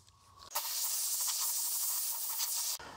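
Duplicolor aerosol cleaner sprayed onto a GMT800 Chevy truck tailgate, one loud, steady, close hiss lasting a little over two seconds that starts and stops abruptly.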